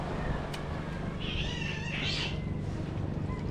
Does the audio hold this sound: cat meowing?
yes